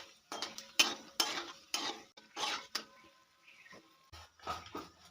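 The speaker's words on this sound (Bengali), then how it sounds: "তেলের সঙ্গে পাঁচফোড়ন ও শুকনো লঙ্কাটা ভাজা ভাজা করে নেব।" Panch phoron seeds and dried red chillies fry in hot oil while a utensil stirs and scrapes the pan, giving repeated close clattering bursts over a soft sizzle.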